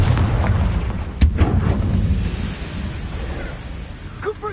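A Confringo blasting spell goes off in the Hogwarts Legacy video game: a sharp explosive burst near the start, followed by rumbling low-end blast noise and a fainter pop near the end, with no speech.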